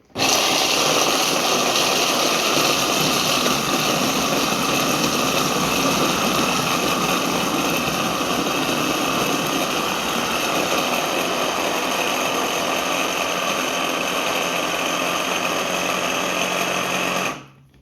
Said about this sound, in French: mon petit robot et on va démarrer